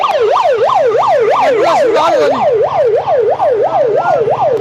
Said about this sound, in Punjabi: ਐਂਬੂਲੈਂਸ ਨੂੰ ਰਾਹ ਦਿਓ ਜੀ ਐਂਬੂਲੈਂਸ ਨੂੰ ਰਾਹ ਦਿੱਤਾ ਜਾ ਰਿਹਾ ਹੈ